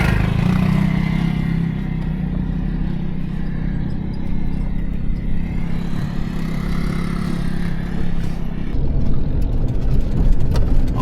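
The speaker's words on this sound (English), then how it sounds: "So that's a pretty steep hill we're going to go up, but you'll be fine in 4-wheel drive high with those tires." A 4WD vehicle in four-wheel-drive high climbs a steep hill, its engine a steady low rumble under rattling and clattering body noise that grows a little louder and rougher toward the end.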